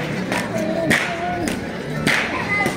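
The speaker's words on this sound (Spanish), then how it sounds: "Los aplausos para seguir motivando a esta cuadrilla de la comunidad de San Antonio" Crowd clapping for a cuadrilla dance troupe in the San Antonio community of Tilantongo, Oaxaca, scattered claps and thumps mixed with voices and shouting, fairly close and uneven.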